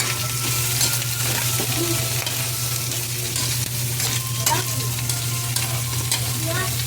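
Boiled mung beans and onions frying in a pan, a loud, steady sizzle with stirring scrapes and occasional metallic clinks, close up and continuous.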